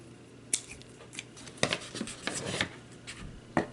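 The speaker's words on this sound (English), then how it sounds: "I'm just gonna cut about where I think I want it as far as length goes." Scissors snip through satin tassel ribbon for a Christmas ornament craft, a few quiet close cuts with soft rustling between them over a short stretch.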